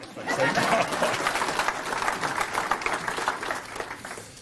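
Audience at a swimming awards ceremony applauding in a steady, dense wash of clapping that holds for several seconds, fairly distant and even in level.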